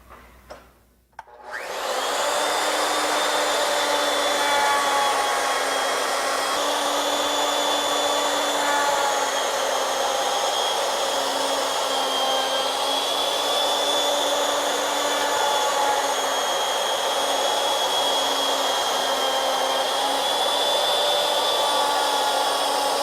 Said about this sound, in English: Each pass, we will move the router over 2 turns or a 1/2 inch.